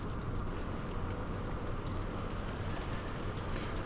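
Steady, dense rain pours down evenly with no pauses, a close, continuous hiss heard alone.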